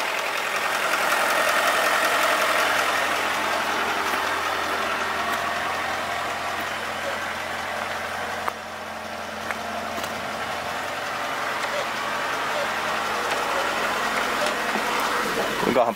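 A Ford Fiesta MK3 engine idles during a restoration, a steady, even running sound lasting throughout with a noisy broadband background.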